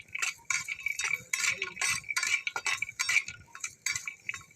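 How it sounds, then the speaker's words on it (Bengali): Cashews and raisins fry lightly in a hot kadai, a soft sizzle broken by quick metal clinks and scrapes of a spatula, close up with no talking. "আমি কাজু আর কিশমিশটা আগে একটু ভেজে নেব হালকাভাবে"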